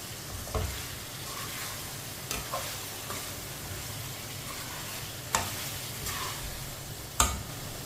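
A potato and spinach (aloo palak) mixture cooks in a pan. A steady, moderate sizzle carries on throughout, with a few sharp ticks and clinks scattered through it and no talking.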